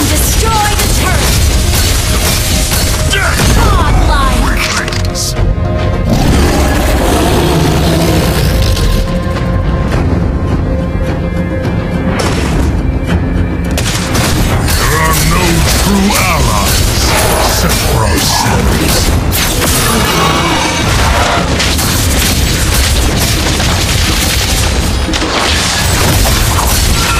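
Turret-destruction explosions in a MOBA ranked match ring out as booms and crashes in dense, loud, continuous game audio, with in-game announcer voice lines over the battle noise.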